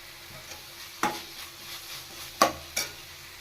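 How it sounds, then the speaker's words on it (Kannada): Raw mango pieces frying over a low flame in a pan, a faint steady sizzle broken by three sharp scraping stirs of a spoon against the metal, no voices. "ಮಾವಿನಕಾಯಿ ಲೋ ಫ್ಲೇಮಲ್ಲೇ ಫ್ರೈ ಮಾಡ್ಕೋಬೇಕು 1-2 ನಿಮಿಷ."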